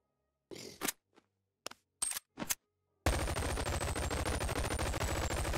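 A UMP submachine gun in the Boneworks virtual reality game, mod version: a few sparse handling clicks, then a loud, continuous rapid-fire burst that keeps going to the end.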